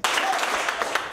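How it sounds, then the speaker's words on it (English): Audience applause at a poetry slam, a short loud burst of crowd clapping with a few sharper claps standing out, fading slightly toward the end with a faint voice underneath. "Clap twice for Curtis"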